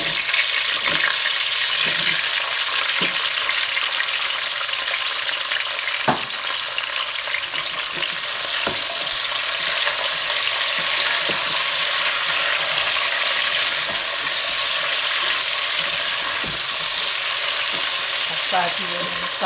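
Potato pieces frying in hot oil in a pan with cumin seeds and chili, a loud, continuous sizzle with scattered scraping and clicking from stirring that carries on for about twenty seconds, with no talking.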